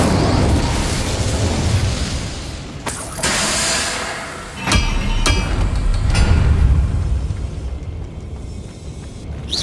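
An Incendio fire spell from Hogwarts Legacy erupts in a loud roaring burst with sharp cracks, swelling again mid-clip amid a dense rumbling game soundscape.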